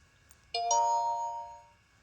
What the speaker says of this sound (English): it'll give you a little chime.